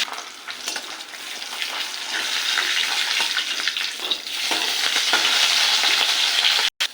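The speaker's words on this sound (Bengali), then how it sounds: "তেল গরম হয়ে গেছে, মাছটা ভেজে নেব।" Fish fries in hot oil with a loud, dense sizzle that builds and stays strong, crackling close up with a brief dropout near the end.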